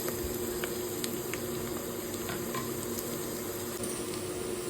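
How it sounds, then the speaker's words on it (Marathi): Crushed ginger and garlic fry in oil with golden-brown onions, a close, steady hiss of sizzling broken by occasional faint stirring clicks, with no talk. "आता मी त्याच्यात आलं आणि लसूण टाकते, क्रश केलेला."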